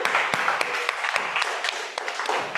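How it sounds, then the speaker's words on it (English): A meeting audience breaks into a brief, steady round of applause, continuous and fairly loud throughout the short stretch with no voices over it. "Can we have a round of applause for that?"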